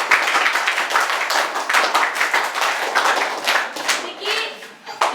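An audience at a government school event applauds a trust donating sports equipment to the schoolchildren, with dense, continuous clapping from many hands, close and lively throughout.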